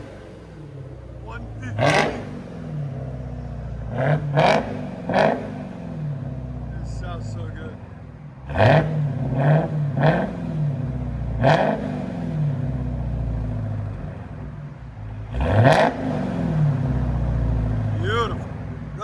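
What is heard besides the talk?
Dodge SRT Hellcat engine revving with muffler delete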